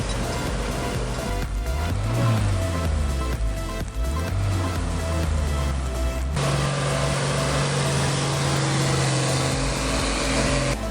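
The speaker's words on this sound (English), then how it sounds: "The powerful engine of the Mercedes truck, combined with the front axle from the T150K tractor and the rear axle and tires from the K701, forms a formidable machine." A Mercedes truck engine drives a heavy custom off-road machine built with a T150K tractor front axle and K701 rear axle and tires, rumbling loudly and steadily with rising and falling revs, joined by a brighter broadband roar partway through.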